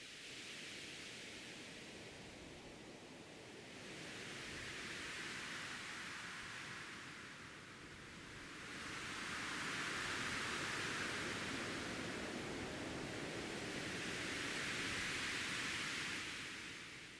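A synthesizer patch built from coloured noise imitates ocean waves. Soft, steady hiss rises and falls in slow, broad swells, like surf rolling in and out, at a faint level with no voices.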